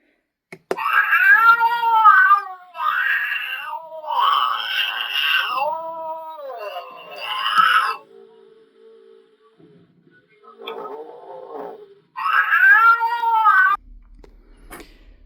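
Sound-activated Halloween black cat animatronic, a Tekky Toys knockoff fitted with a louder replacement speaker, gives several loud electronic meows and yowls in bursts, with a short pause and quieter sounds in the middle.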